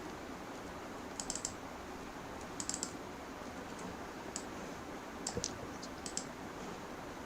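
Someone types data on a computer keyboard, producing scattered clusters of light key clicks over a steady faint background hiss, with no talking.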